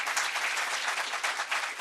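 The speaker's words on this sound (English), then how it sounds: "Let's give her a round of applause." Audience at a youth mental health listening event with the governor applauding a speaker, a brisk, even round of many hands clapping, somewhat distant and free of talk.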